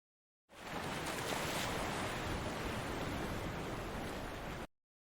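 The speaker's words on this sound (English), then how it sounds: "Sea." Sea waves washing steadily, a broad continuous rush of surf with some wind, fading in and cutting off cleanly after about four seconds.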